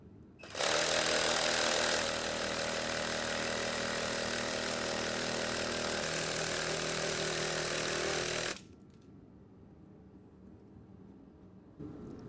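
A jigsaw cuts camper van flooring in a Ram ProMaster build, starting abruptly with a loud buzzing whine that runs for about eight seconds before stopping and leaving quiet room tone.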